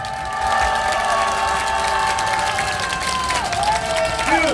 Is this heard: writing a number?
no